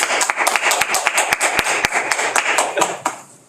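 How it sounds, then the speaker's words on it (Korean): A seminarian audience claps to welcome a pastor taking the stage for a lecture, loud and close, with distinct individual hand claps in a quick, irregular patter that thins toward the end. "자, 박수로 환영하겠습니다."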